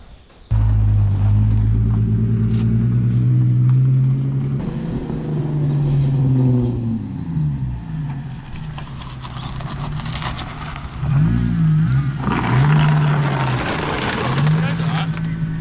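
A Holden Commodore drift car engine idles roughly, then revs up and down several times with a harsh, raspy growl, loud and close; brief voices are heard faintly.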